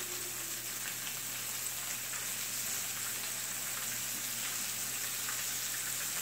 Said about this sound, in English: lay it into the pan just like that, give it space so the fish could fry properly.